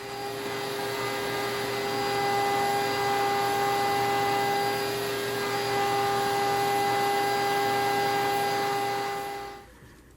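A vacuum cleaner runs steadily while being used to vacuum a cat's fur, a loud continuous motor whine with strong tonal hum that holds for about ten seconds before cutting off abruptly.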